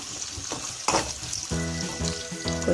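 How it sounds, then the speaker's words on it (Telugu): Onions and green chillies fry in a pan, giving a steady close sizzle with brief stirring scrapes. "కొంచెం ఎర్రగడ్డలు ఎర్రగా వేగాక"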